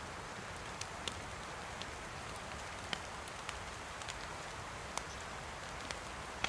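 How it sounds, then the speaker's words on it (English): Steady rain in the video game DayZ hisses evenly throughout, with occasional faint drip ticks, soft and distant, and no voices. "It's still raining."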